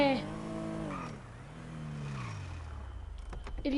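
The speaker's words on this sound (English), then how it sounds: "hear that sound from your car, that means it's damaged" A damaged car engine in the video game GTA drones and sags in pitch, then turns rough and sputtering with uneven rattling bursts toward the end.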